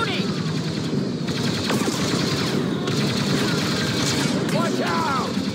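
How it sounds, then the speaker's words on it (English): Sustained blaster-style gunfire in Star Wars Battlefront 2 single-player campaign combat, dense rapid bursts with booms mixed in under shouted voices. "Then just keep shooting!"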